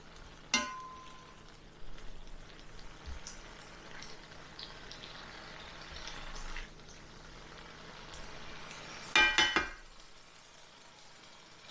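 Ground beef frying in a pan, a steady low sizzle with occasional stirring scrapes and a few sharp clatters of the utensil against the pan, close by with no talk.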